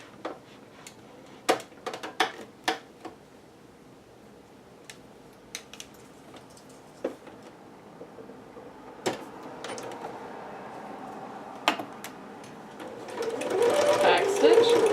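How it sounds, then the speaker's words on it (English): A sewing machine stitches a regular 5/8 inch seam on a Butterick dress pattern, with scattered handling clicks and taps, then runs in a loud continuous whir near the end. "now we're just going to stitch that using a regular 5/8"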